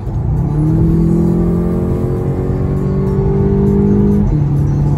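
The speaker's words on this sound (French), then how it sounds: "Genre là, si je fais le kick down." A Volkswagen Golf 7 GTI with a 230 hp engine revs hard on kick-down, a loud steady drone that climbs in pitch for about four seconds before a gear change drops it, heard from inside the cabin.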